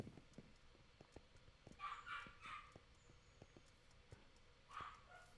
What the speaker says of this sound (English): If you hear dogs barking in the background,